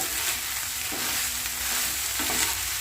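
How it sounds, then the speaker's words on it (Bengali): Soybean chunks frying in a pan give off a steady close sizzle, with occasional soft stirring scrapes breaking through the continuous hiss. "এখন সোয়াবিন ভাজা চলছে"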